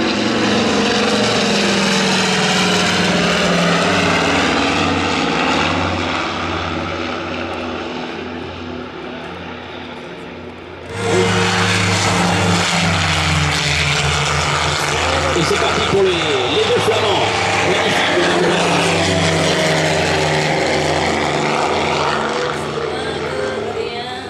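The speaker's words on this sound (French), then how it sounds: "Voilà l'avion qui passe euh, train sorti, volet sorti, configuration d'atterrissage, toute la puissance des deux, Bristol Hercules." Loud, throbbing drone of a twin-engine propeller plane with Bristol Hercules engines passing close, gear and flaps down in landing configuration, dipping briefly midway before surging back at full power.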